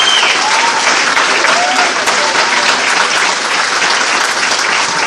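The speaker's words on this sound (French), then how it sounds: "on peut applaudir ces honneurs, mesdames et messieurs" A French television studio audience applauds loudly and steadily, a dense wash of many hands clapping close by with no break and no voices on top.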